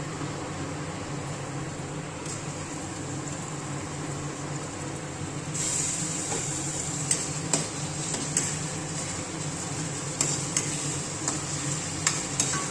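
Ginger and garlic frying with browned onions in a pan for a pork curry, a steady sizzle underneath with sharp spatula clicks and taps against the pan growing more frequent in the second half.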